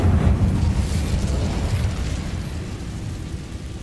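The Incendio fire spell cast in Hogwarts Legacy, a loud burst like a fiery explosion that erupts at once and then fades into a dwindling rumble.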